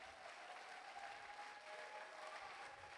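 Sustained applause from a church congregation honoring the Lord, many hands clapping in a steady, moderately distant wash with a faint sustained tone beneath.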